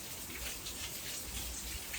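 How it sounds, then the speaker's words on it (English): Steady rain falls around a 2019 Harley-Davidson Road Glide Special, a soft dense patter with no voices over it. "wow, it's really raining."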